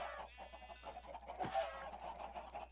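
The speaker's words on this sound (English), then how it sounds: "Wow, I didn't realize I spawned so many chickens." Chickens cluck in a modded Minecraft game, a cluster of soft, repeated clucks over a quiet game background.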